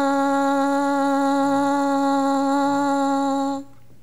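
A French horn mouthpiece buzzes on its own, a single sustained, brassy, nasal pitch held steadily and loudly up close for more than three seconds, then stopping abruptly.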